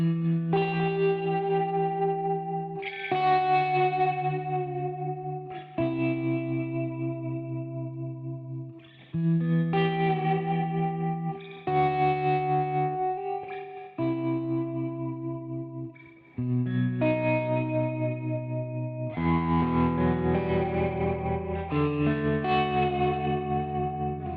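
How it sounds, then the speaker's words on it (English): Electric guitar through a Fender '63 Tube Reverb unit with a wet, splashy spring reverb plays a clean, twangy surf melody in a steady series of phrases, loud and alone with no talking. "It makes that kind of surf reverb sound, but it does it really well."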